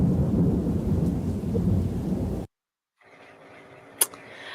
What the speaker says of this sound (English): It's more pure rain-y sounds.